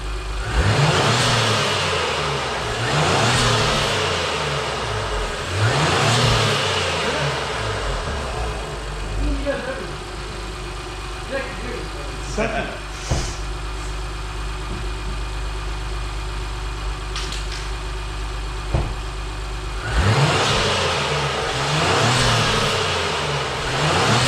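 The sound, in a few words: sports car engine revving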